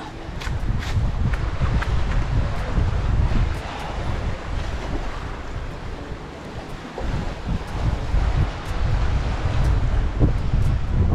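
Strong wind buffets the microphone in a constant roar, with a wash of surf-like rumble underneath and no voices.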